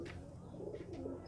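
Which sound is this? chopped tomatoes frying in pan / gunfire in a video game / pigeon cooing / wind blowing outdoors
pigeon cooing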